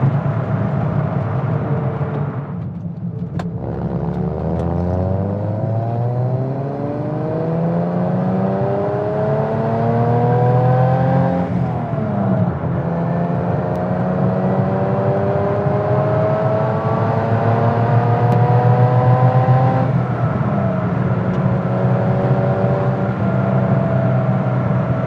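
A Datsun 240Z engine revs up repeatedly in long rising sweeps, the pitch climbing, dropping back and climbing again, loud and close throughout with no talking.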